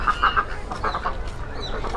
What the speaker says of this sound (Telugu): పక్కన బాతులు ఉన్నాయి. బాతులకు ఫుడ్ వేస్తున్నారు.